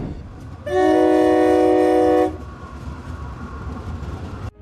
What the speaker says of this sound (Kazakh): Мына шеті көрінбейтін шойын жолдармен күніне ондаған пойыз өтеді